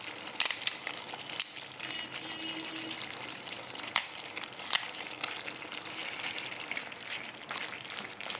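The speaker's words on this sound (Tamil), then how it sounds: "இப்போ நம்ம அப்பளத்தை புட்டு போட வேண்டியதாங்க" Appalam papad crushed by hand into simmering kuzhambu, several sharp crackling snaps scattered over a low bubbling sizzle, close and without speech.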